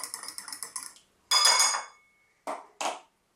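Oil and vinegar dressing for a lentil salad being stirred in a bowl, a quick run of light clinks and taps followed by three louder scraping, clattering bursts, close and with no voices.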